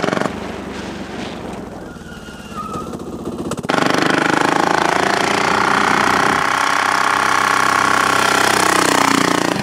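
A motor starts up partway through and then runs loud and steady with a buzzing, close-up drone, following quieter mechanical rumbling before it kicks in.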